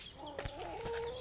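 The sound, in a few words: chickens clucking at feeding time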